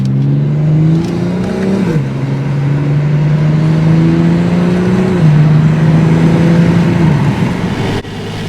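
A BMW M340i's B58 engine with an MST intake pulls hard through several gears, its loud rising drone dropping at each shift, with a steady rushing intake whoosh over it.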